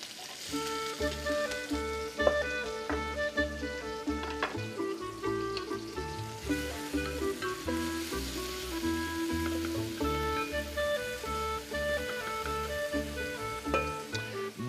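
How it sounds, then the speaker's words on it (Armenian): Chopped onion hits hot oil in a pan and sets off a steady, close sizzle that runs the whole way through with a dense crackling texture. "դաղվեց յուղը, ավելացնենք հիմա սոխը"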